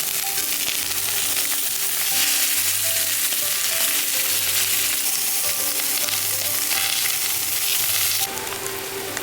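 Garlic frying in hot oil in a pan, a dense continuous sizzle with faint stirring, loud and close, cutting off near the end.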